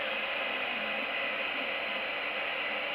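A TEVO Tornado 3D printer runs steadily with a constant broadband mechanical whir and hum, close and unbroken throughout, while the print is failing and balling up.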